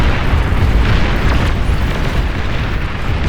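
Artillery barrages boom continuously in the real-time strategy game Beyond All Reason during an 8v8 match, a dense, rumbling wall of overlapping explosions that stays loud and steady throughout.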